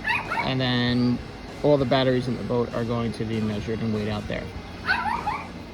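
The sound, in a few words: dog barking and whimpering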